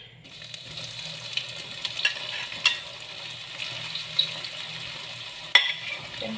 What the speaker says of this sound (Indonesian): Ini minyaknya udah mendidih ya, kita masukkan tempenya.